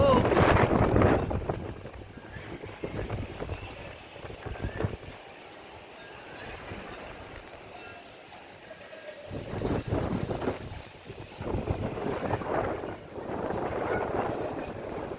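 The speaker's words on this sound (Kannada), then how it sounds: "ಏನಾದರೂ ಇದ್ದರೆ ಎಲ್ಲ ಹಾರ್ಕೊಂಡು ಬಂದು ಬೀಳೋ ಥರ ಇದೆ ಗಾಳಿ" Strong gusts of wind roar and buffet the microphone in waves, rising and easing, with a voice speaking at times.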